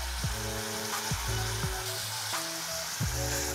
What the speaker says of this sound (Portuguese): Agora nós vamos dar uma refogada na carne